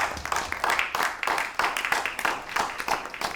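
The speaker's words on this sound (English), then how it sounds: "If we could have a round of applause." An audience applauds at an evening event, a sustained patter of many hands clapping at moderate, fairly distant level without a break.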